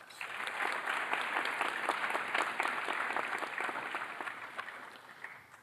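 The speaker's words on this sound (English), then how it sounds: "Could we please give them a round of applause?" An audience at a high school Memorial Day ceremony applauds honored guests, a continuous wash of clapping at moderate distance that holds steady and then eases off.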